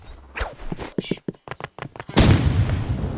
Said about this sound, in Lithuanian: Aš random mesiu granato.